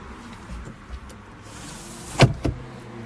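Electric blind sliding across the glass panoramic roof of a Fiat 500 1.2 Lounge, a soft motor whir ending in a firm thud and a smaller knock as it closes, close inside a quiet cabin.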